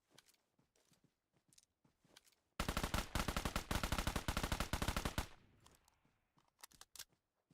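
A long burst of rapid automatic gunfire crackles through an esports battle royale match, loud and sustained for a few seconds, framed by scattered single shots before and after.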